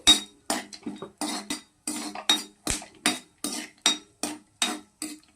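Dry fruits deep-frying in hot ghee, stirred with a metal spoon that scrapes and clinks against the pan in a steady rhythm of about a dozen strokes, close and fairly loud, with no voice.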